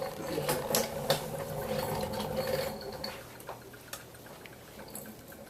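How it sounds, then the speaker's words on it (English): A titration burette drips drops into solution during a lab demonstration, a series of small, close ticking plinks at an irregular pace, with a faint mechanical hum underneath that thins out in the later seconds. "now I'm going to set up a drip rate in here"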